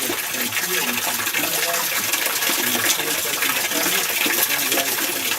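Water runs continuously through an ancient stone channel at Machu Picchu, Peru, making a steady, fairly loud gushing and splashing with no pause.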